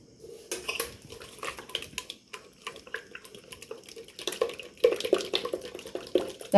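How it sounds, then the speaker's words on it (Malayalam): Appam batter for soft palappam, with sugar and salt added, being beaten and mixed by hand in a bowl: irregular wet slaps and clinks of the vessel, fairly close, with no talk. "കൈ കൊണ്ട് കൈ കൊണ്ട് നല്ല അടിച്ച് ഇളക്കുക"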